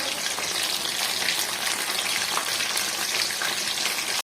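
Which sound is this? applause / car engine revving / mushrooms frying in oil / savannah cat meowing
mushrooms frying in oil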